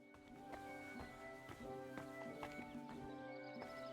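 Horse hooves clip-clop at a steady, even pace in the video game Kingdom Come Deliverance II. The hoofbeats are fairly faint and sit over a continuous tonal in-game background.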